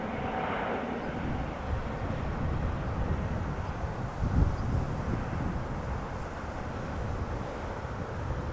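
A large airliner passes at windy Amsterdam Schiphol Airport, its engines a broad steady roar under gusting wind that buffets the microphone, swelling briefly midway.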